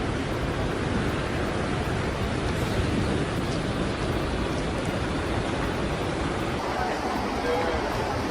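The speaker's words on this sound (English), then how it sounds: "cyclonic winds created fierce waves, striking proof of the brutal force of extreme weather" Fierce waves whipped up by cyclonic winds pound Australia's coast, a dense, continuous roar of surf and wind that fills the whole stretch at steady loudness.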